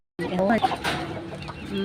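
A native chicken clucks a few times up close, short throaty calls with some background noise.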